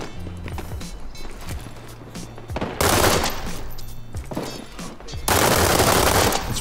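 Rapid automatic SMG M416 gunfire in a World War 3 video game, loud sustained bursts with a brief lull, then a second heavy burst, busy game noise underneath.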